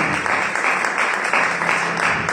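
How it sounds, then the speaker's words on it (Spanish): Church congregation applauding during a Spanish-language service, a loud, continuous wash of clapping with no break across the short stretch. "Démosle un fuerte aplauso al Señor"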